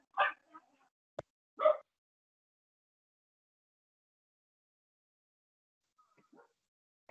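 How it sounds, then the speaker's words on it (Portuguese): A dog inside an apartment barking excitedly at children running past outside, a few sharp close yips and barks early on, then a long silence and faint distant sounds. "Umas crianças passam correndo aqui atrás do meu apartamento e a minha cachorra fica enlouquecida"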